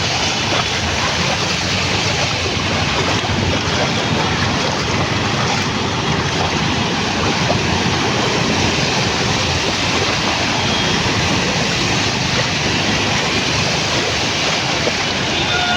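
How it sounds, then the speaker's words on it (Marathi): Vehicles drive through flooded Mumbai streets after a night of heavy rain, making a constant loud rushing wash of water and wind noise that stays even throughout, with no voices. "आणि आता जरा पाऊस कमी झाला आहे"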